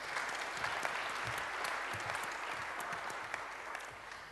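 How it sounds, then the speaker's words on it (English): Sustained audience applause for panel speakers at an international leaders' roundtable session, steady, even clapping from a sizeable crowd throughout with no voices on top. "Would you give them all a round of applause?"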